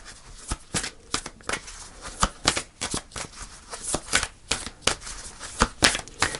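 Tarot cards being shuffled in a steady riffle, a rapid run of crisp papery snaps and flutters, close and fairly quiet, with no voices.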